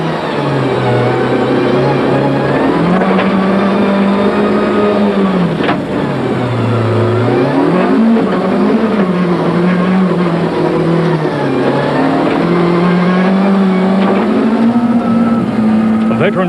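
From onboard a VW Golf rally car on a stage at the 2001 Rally of South Africa, the engine roars loudly and continuously, its pitch climbing and dropping back through several gear changes.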